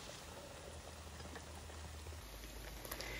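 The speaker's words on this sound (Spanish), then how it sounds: "le vamos a incorporar el chorizo y lo vamos a dejar cocinar muy bien" Chorizo sizzling as it cooks in a pan, a faint, steady crackling hiss with scattered tiny pops and no voices over it.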